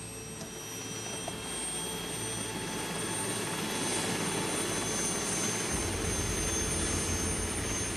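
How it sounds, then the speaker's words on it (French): Steady, loud engine roar heard from inside a helicopter in flight, a continuous rotor-and-turbine drone that fills the whole stretch without pause. "Dans l'hélicoptère"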